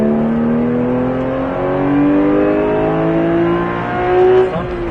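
A Porsche 991 GT3 pulls hard on track at the Circuit de Bresse, its engine note climbing steadily through the revs, loud and close, then briefly dipping near the end as the throttle lifts.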